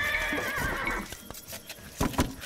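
Horses in Age of Empires 2 on the African Clearing map, giving a loud, shrill neigh up close, followed by a few hollow clip-clop hoof steps.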